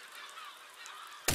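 Cartoonish honking from birds in the physics building game Besiege, a run of nasal goose-like calls at moderate volume, cut off at the end by a sudden loud burst.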